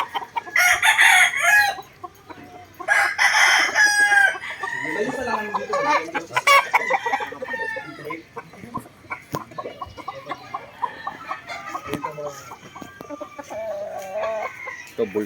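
F1 chickens on a poultry farm cluck and crow in loud bursts, several birds calling close by and overlapping, with quieter clucking and farmyard noise in between.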